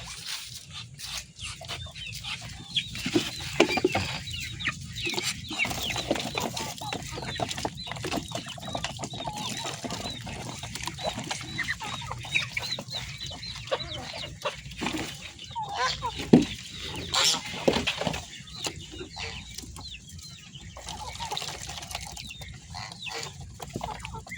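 Muscovy ducks feed noisily up close, with continuous pecking, dabbling and scattered soft calls over a busy background, lasting a long stretch.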